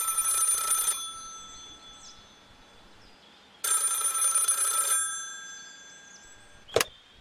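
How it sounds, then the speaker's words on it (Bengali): A telephone bell rings in two long bursts, fairly close and alone in a quiet room, followed by a brief sharp click or knock. "এমন সময় টেলিফোনটা বেজে উঠল।"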